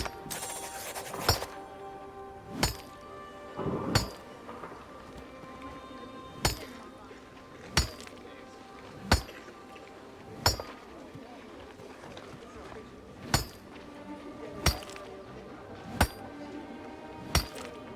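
Stone is mined in a video game, heard as evenly spaced sharp strikes roughly every second or two, each a crisp clink over a low steady background.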